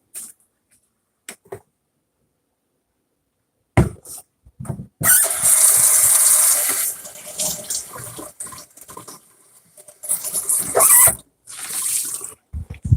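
Water runs from a kitchen sink tap while a spatula that held raw meat is washed with soap, a steady close splashing stream in two long bursts after scattered clinks and handling.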